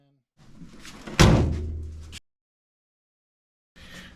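Door of a VW Baja Bug under build, its steel dash being rebuilt, slammed shut once with a loud close metallic thunk, heard after a brief lead-in rustle and followed by silence, with someone speaking around it.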